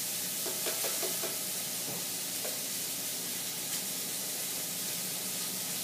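Chopped onion frying in a pan for a ragu, a steady broadband sizzle and hiss with a few soft clatters early on, close and fairly quiet, no talking.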